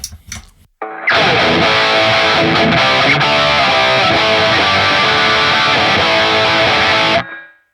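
Loud, gritty electric guitar through a Line 6 POD GO Stupor OD overdrive and Badonk amp model plays a dense strummed passage for several seconds after a brief quiet start, then cuts off abruptly.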